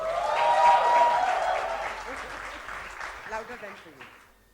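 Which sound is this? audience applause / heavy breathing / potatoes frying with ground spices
audience applause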